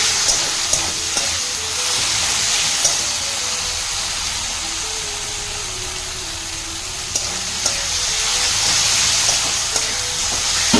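Tomato and chopped coriander leaves fry in a pan for a home fish and potato curry, giving a steady bright sizzle broken by occasional soft taps of the stirring spoon.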